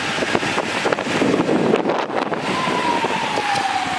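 Gusty wind buffets the microphone beside a 1971 Ford Torino GT convertible with a rough, roaring rush, while a faint tone drifts downward in the background.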